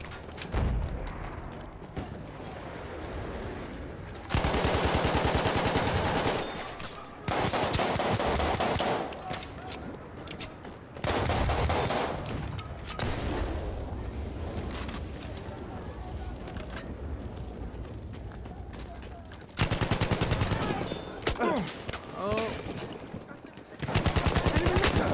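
Machine gun fire in the Battlefield 1 video game roars in long loud bursts separated by quieter stretches, with rapid repeating shots, explosions and occasional talk between volleys.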